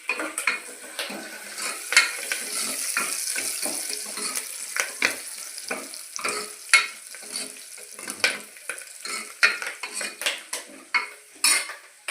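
Curry leaves sizzle in a pan as tempering for a Telugu amaranth-leaf dal, with frequent sharp clinks of a metal spoon against the pan while stirring, close and busy, with no talking.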